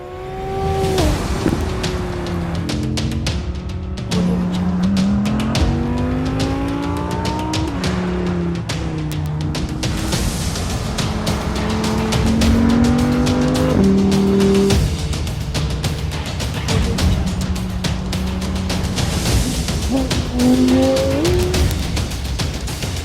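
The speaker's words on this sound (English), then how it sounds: "have a look at this video on the Audi R8 Spider" Audi R8 Spider sports car driving, a loud engine revving up and down through repeated gear changes with occasional tire squeal, steady and close throughout.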